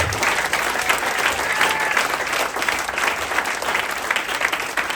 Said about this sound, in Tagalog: Sa palakpak kay Jesus.